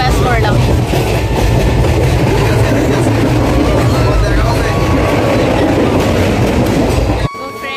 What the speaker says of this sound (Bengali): এখন বর্তমানে আমরা শিয়ালদা স্টেশনে নামছি